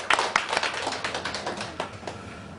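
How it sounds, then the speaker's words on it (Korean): A small church congregation claps to welcome a visiting brother, a short burst of dense overlapping applause that starts strong and gradually thins out. "우리 하여튼 오셨으니까 박수로 환영합시다"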